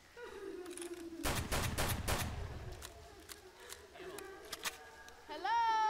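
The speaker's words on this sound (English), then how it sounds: "Do you hear gunfire at all?" Rapid bursts of gunfire in Left 4 Dead 2 crackle loudly in a dense volley, followed by scattered single shots, with a voice talking underneath.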